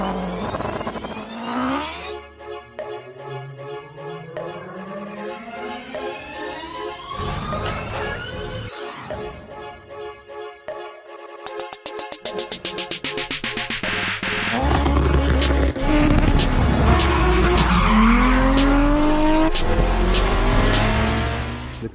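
A Honda Civic EG with a swapped 4G63 engine and all-wheel drive revs and accelerates hard, engine pitch sweeping up through the gears, then a loud, sustained roar with tire noise from close by.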